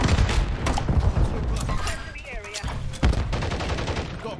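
Rapid bursts of gunfire from a Call of Duty-style multiplayer domination match run through the whole stretch, close and busy, with in-game effects and voice chatter layered over the shooting.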